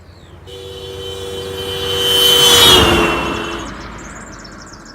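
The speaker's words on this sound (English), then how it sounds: "I set it up on the side of the road and honked the horn continuously as I passed it" A car horn blares continuously as the car approaches and passes close by a roadside microphone, the pitch dropping noticeably from the Doppler effect as it goes by, then fading away.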